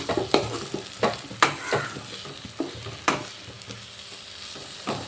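Bean and bori curry with chopped coriander and green chilli stirred in a pan, a run of loud spoon scrapes and knocks at an uneven pace over a soft sizzle, close and without voices.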